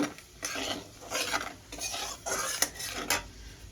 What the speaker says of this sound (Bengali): আমি ফোড়নে গোটা জিরে দিয়ে দিয়েছি ফোড়নটা একটু ভেজে নেব